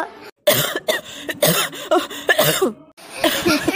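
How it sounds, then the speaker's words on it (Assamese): A cartoon character coughs in a run of harsh, throaty bursts separated by short gaps, loud and close. "পানী অকণমান খালেহে আপোনাৰ কাহটো ৰখিব"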